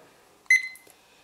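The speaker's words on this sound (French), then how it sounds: "le bip de touche, moi je l'ai mis sur ON" A single key-press beep from a display unit's button, a short bright electronic tone that rings briefly and fades, alone in a quiet room.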